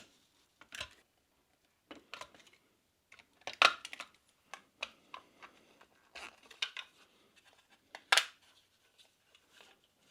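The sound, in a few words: cutting a square hole in a Maxx Air fan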